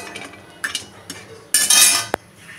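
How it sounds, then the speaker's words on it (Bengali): Lentil dumplings (bori) dry roast in a kadai without oil, heard as scattered clinks and scrapes of a utensil against the pan, with a louder rattling burst near the end. "আগে আমি শুকনোভাবে ভেজে নেব, তারপরে আমি একটু তেল দিয়ে ভাজা করে নেব"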